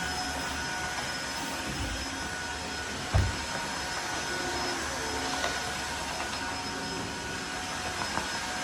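A Tineco hard floor cleaner runs steadily over a floor coated in sheetrock dust, a continuous motor whine with a sharp knock about a third of the way in.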